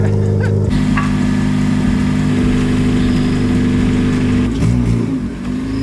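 An Acura TSX engine with an exhaust leak at a newly fitted gasket idles loudly with a rough, rumbling drone, revving slightly near the end; the steady low growl runs continuously throughout.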